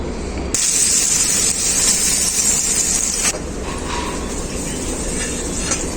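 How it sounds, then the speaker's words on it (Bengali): Batter hits hot mustard oil in a pan and breaks into a loud, bright sizzling hiss that holds for a few seconds, then drops to a quieter, steady fizz. "তেলটা খুব ভালোভাবে গরম হয়ে গেছে তেলের মধ্যে আমি ব্যাটারটা দিয়ে দেবো"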